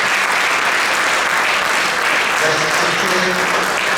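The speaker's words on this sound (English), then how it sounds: "How about a big round of applause for a young man in front who brings down" An audience at a live event bursts into loud, dense, sustained applause, continuous clapping from many hands throughout, with a faint voice rising beneath it near the end.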